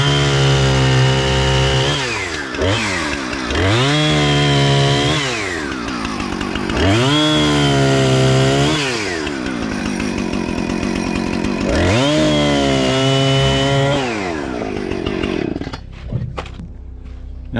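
A chainsaw cuts through a log of storm-damaged tree wood, loud and close, revving up and bogging down through about four separate cuts before idling down at the end.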